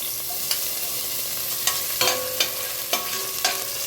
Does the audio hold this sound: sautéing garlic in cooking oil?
yes